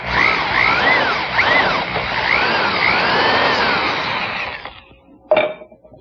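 A power drill whines steadily through a wooden Windsor chair seat backed by scrap wood, its pitch wavering under load before it stops, followed by a sharp knock.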